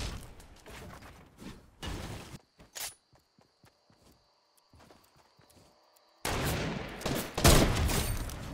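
Several quick shots ring out in Fortnite, followed by sparse footsteps and clicks in a quiet stretch, and then a loud, dense burst of close gunfire.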